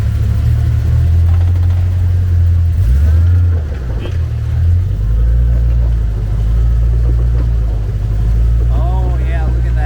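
A Hummer engine rumbles and revs loudly and steadily while backing up over offroad terrain at Black Mountain in Harlan, Kentucky, with voices talking over it.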